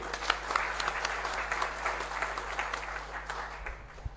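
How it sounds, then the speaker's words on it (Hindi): A crowd at the All India Rathore Youth Convention in Hodal, Haryana gives loud, sustained applause to welcome guests, a dense and steady clapping that runs for the whole stretch before easing slightly near the end. "एक बार समाज के लोग जोरदार तालियों से इनका स्वागत करेंगे"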